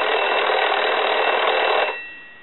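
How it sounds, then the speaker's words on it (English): A French PTT telephone rings with one loud, continuous electric bell burst. It stops abruptly after about two seconds and fades into quiet. "we'll go ahead and ring the unit"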